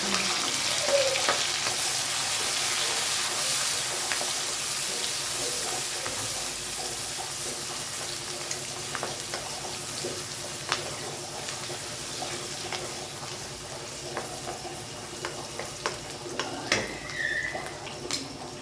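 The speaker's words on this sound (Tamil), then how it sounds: "ஆனியன் நல்லா வதங்கிட்டு இருக்கு" Chopped onions and curry leaves sautéing in a pan for a brinjal fry, giving a steady, soft frying sizzle throughout with occasional light clinks and stirring sounds, no talking.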